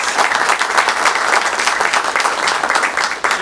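A small audience at a community committee meeting claps together, dense steady applause lasting a few seconds with a faint murmur beneath.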